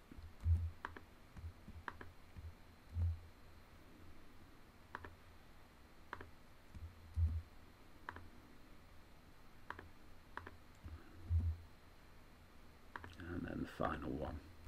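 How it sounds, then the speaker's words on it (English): Clicks of a computer mouse picking colours one after another in an Excel spreadsheet, several sharp soft ticks spaced irregularly over a low steady room hum. "If I go to each of my colours and I click them once to select"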